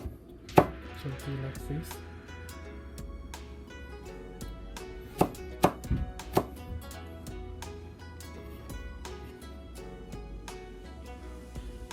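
A knife chops mini sweet pepper and ginger finely on a cutting board while a steamed bass is prepared: a few sharp, separate strikes over steady background music, with a brief spoken line.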